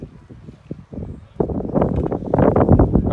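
Wind blowing outdoors beside an assembled Noah's Ark boat, gusting in rough buffeting bursts against the microphone, weak at first and then louder and steadier.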